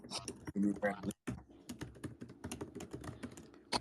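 Rapid typing on a computer keyboard, dense clattering key clicks in quick irregular bursts, close and moderately loud, with people talking in the background.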